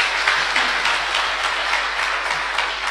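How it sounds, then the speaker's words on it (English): A crowd applauds at a professional institute's presentation event in Zambia, producing a dense, loud, steady wash of clapping throughout. "A round of applause for him."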